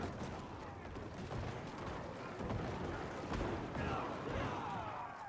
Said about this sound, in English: do corpse explosion. Kind of like this.